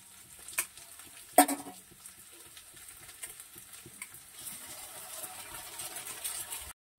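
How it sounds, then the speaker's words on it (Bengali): Egg with potato and onion fries in a pan, a faint steady sizzle with scattered stirring scrapes and one sharp clink early on, no voices. "ডিম দিয়ে আলু পেঁয়াজ দিয়ে একটু ভাজা ভাজা করে রাখবো রাতের জন্য"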